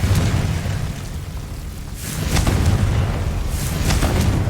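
A Confringo spell blasts in Hogwarts Legacy, a loud booming explosion with deep rumble that swells again midway, thick low-end roar filling the whole stretch with no talk.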